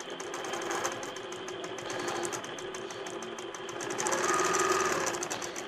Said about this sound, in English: Machine's going to do its tie off stitches.